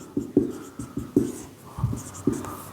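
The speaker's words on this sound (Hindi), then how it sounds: "यहाँ लिख दे रहा" Pen writing by hand on paper, a series of soft scratchy strokes in an irregular rhythm, close and quiet.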